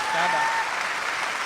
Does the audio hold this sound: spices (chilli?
no